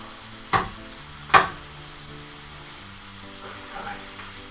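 Tinned corned mutton stirred in a frying pan, with two sharp scraping clacks of a utensil against the pan over a steady low sizzle and a faint hum.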